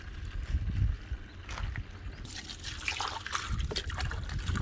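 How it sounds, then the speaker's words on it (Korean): Cucumbers being washed under running water, a steady splashing trickle with handling noises. It grows brighter and busier midway through. "이렇게 깨끗하게 씻어 주면 됩니다"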